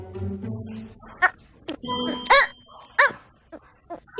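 A pet dog named Spike gives several short sharp barks spaced irregularly, close by, with people talking over and between them.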